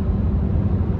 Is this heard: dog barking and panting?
no